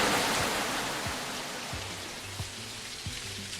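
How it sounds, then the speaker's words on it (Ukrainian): A steady hiss of heavy rain pours down in the video game Tukoni, with a few soft low thumps underneath. "Дощ пішов."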